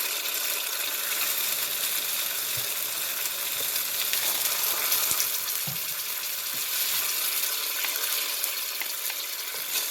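Mongolian pork with hoisin sauce stir-frying in a pan, a steady loud sizzle running the whole time with a few clinks and scrapes of a big spoon stirring.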